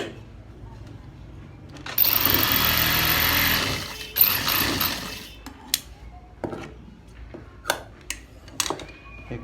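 A sewing machine stitches a side pocket in a short, dense run of about three seconds, then stops briefly and restarts. Scattered ticks and clicks follow as the fabric is handled close by.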